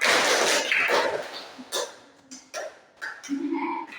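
A classroom of students claps hands together in a counting clapping game, several loud, crisp group claps in a brisk cluster early on, then sparser claps between short spoken calls from a nearby voice.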